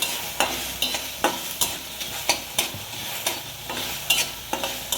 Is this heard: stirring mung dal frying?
yes